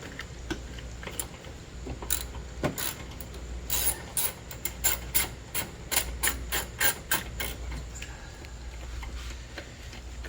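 Hand wrench working a 10 mm bolt loose on a Toyota Avalon's 2GR-FE 3.5L V6 engine, a run of close, sharp metallic ratcheting clicks and ticks, denser toward the middle, over a low engine-bay hum.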